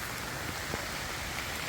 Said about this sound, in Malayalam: ഫുൾ ടൈം മഴ കേട്ടോ.